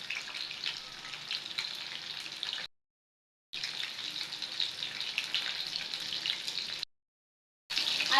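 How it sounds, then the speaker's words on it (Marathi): Chicken lollipops sizzle steadily in hot frying oil, a dense crackling hiss broken by two short silent gaps. "आता हे आपले लॉलीपॉप झालेले आहे फ्राय करून."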